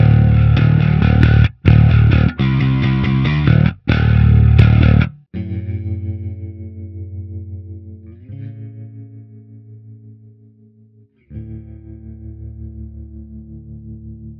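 A bass guitar played through the STL Tones Graviton amp plugin with chorus added: choppy, distorted chord stabs first, then clean sustained notes shimmering and wavering with the chorus effect, with no other sounds.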